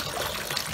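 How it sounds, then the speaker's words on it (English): Water runs steadily from a normal bath faucet used as a shower, a continuous close hiss and splash with no talk over it. "I say shower, it's a normal bath faucet"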